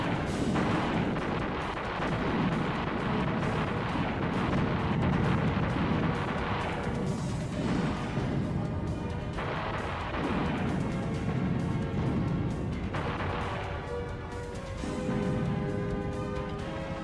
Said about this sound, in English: So I can just sort of strafe out and rocket the thing.